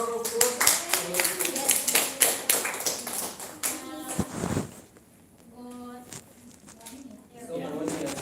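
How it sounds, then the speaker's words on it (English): A classroom of students claps for a classmate in a short, uneven patter of hands, with gaps and a few louder taps, and voices murmuring in between. "give Nacho a round of applause"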